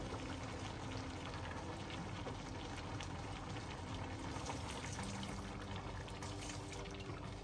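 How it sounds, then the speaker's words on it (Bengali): Vegetables simmering in a pan as cornflour is added, a steady bubbling, sizzling wash of liquid noise at low volume, with no voices. "কর্নফ্লাওয়ার দিয়ে দিব এখন।"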